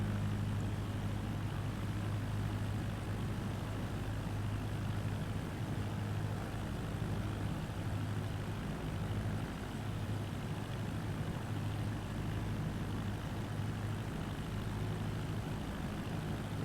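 An aircraft taxiing in Microsoft Flight Simulator 2024, a steady continuous engine drone with a low hum holding level throughout, no voices.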